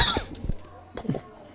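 A couple of quick, sharp coughs close to the microphone, followed by a short throat-clearing sound.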